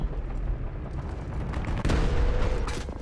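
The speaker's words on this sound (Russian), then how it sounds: "Я, во-первых, выстрелил снарядом" Tank cannon fire in the War Thunder Mobile game, a deep booming shot breaking through a low rumbling battle backdrop, followed by a sustained loud roar with no speech.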